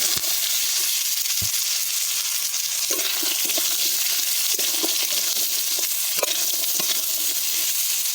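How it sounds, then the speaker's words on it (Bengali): Cut potatoes frying in hot ghee with dried red chillies and black cumin, a continuous close sizzle broken by scattered sharp scrapes and clinks of stirring, no talking. "আলুটা ভালো করে ভেজে নেব।"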